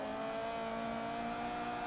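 A rear-wheel-drive Starion in a racing video game holds a steady, even engine drone throughout, moderately loud and uninterrupted by speech.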